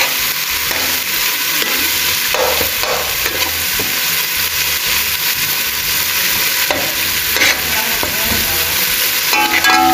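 Vegetables sauté in a pan for vegetable rice, a strong steady sizzle close by with repeated stirring scrapes and knocks of the spoon, no one speaking.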